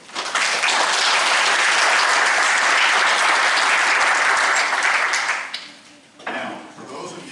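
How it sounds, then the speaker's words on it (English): Loud, dense applause fills a lecture hall at a genealogy talk, holding steady for several seconds before dying away, with a murmur of voices and a few stray claps after it. "So give them a round of"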